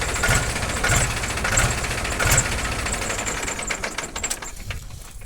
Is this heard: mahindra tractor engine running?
yes